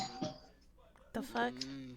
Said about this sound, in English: That is my doorbell.